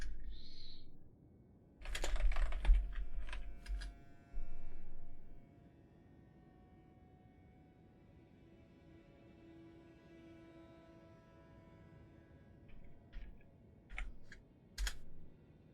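Quiet bursts of rapid clicking on a computer keyboard, with a flurry of keystrokes early on and a few scattered presses near the end over a faint background hum.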